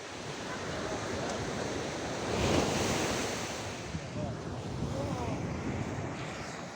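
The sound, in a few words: sea waves and wind at the seashore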